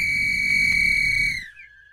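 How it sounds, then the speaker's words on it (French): A single loud, sustained whistle blast on a deserted island shrills steadily for over a second, then dips and fades out. "c'est le premier coup de sifflet"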